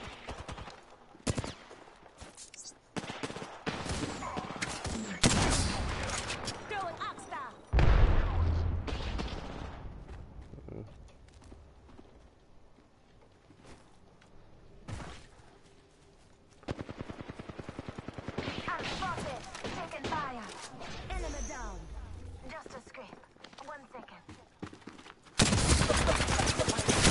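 Bursts of automatic gunfire from an Apex Legends match crackle in rapid volleys, loud and close, with short pauses between strings of shots and a few quieter gaps.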